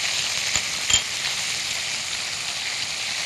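Garlic and butter sizzle in a frying pan with a steady, close hiss throughout, broken by a couple of faint clinks near the start.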